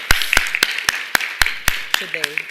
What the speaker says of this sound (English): we'd like to give you a big round of applause